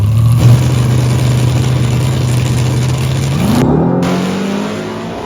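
A Chevrolet Biscayne drag car roars under load on a nitrous pass, a steady loud engine drone holding one pitch, then a shift break and the note climbing again as it pulls away.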